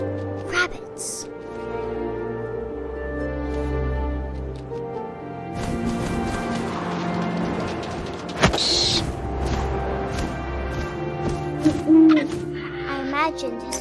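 An owl hoots in the video game What Remains of Edith Finch, with a sustained hoot-like tone early on, then creaks and a sudden boom over ambient game sounds while a narrator speaks.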